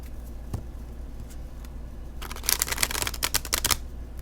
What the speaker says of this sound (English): if you want to see how they shuffle